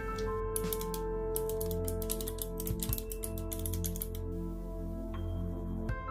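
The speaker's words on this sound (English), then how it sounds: "And I will start typing something." Brisk bursts of typing on a computer keyboard, clustered rapid key clicks with short pauses between runs, fairly close and clear over a steady electronic hum in a quiet room.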